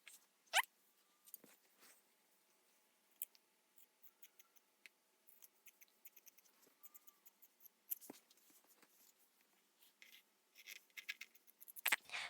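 Scissors snip through fabric while cutting panels for a no-pattern beach kimono cover-up, giving quiet, scattered crisp snips and rustles at close range, busier toward the end, with no talking.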